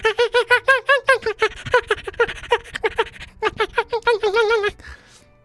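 A human voice imitates a happy fox with a fast series of high, piercing squeaks and chitters, close and loud, in quick rhythmic bursts that end in a longer trill.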